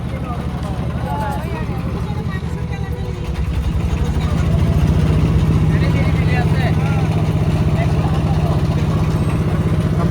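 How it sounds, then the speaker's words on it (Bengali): A motor boat crossing a river drones with a steady engine hum that swells louder partway through, while people talk and call out nearby over the noise. "নৌকা করে ওই পারে পার হচ্ছি।"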